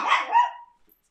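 A single sharp dog bark, close and loud, quickly trailing off into silence.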